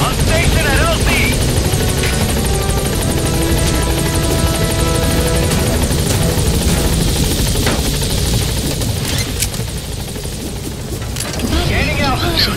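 A helicopter approaches a landing zone in Metal Gear Solid 5, its steady rotor and engine roar filling the clip at a loud, constant level beneath in-game radio chatter.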